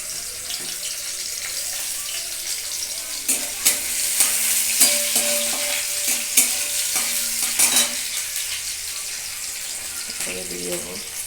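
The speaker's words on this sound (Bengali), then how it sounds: "তেল একটু গরম হয়ে গেছে, এর মধ্যে আমি এখন দিয়ে দেবো টুকরো করা লঙ্কা আর রসুন কুচিগুলো।" Chopped chili and garlic hitting hot oil in a wok, a steady close sizzle with scraping stir strokes, a few clatters, and water-like splashing near the end.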